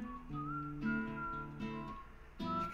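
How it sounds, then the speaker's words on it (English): Melodic whistling in a video game, a clear tune of short held notes and slides repeating in phrases, fairly quiet and alone without talk. "There's whistling? I've always said there needs to be more whistling in games."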